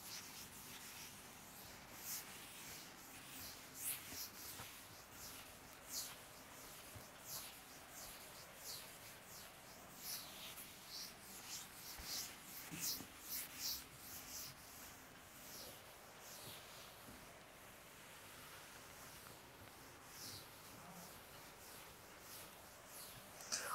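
Soft repeated rubbing strokes of a board being erased in a classroom lesson, faint and continuous with no talking.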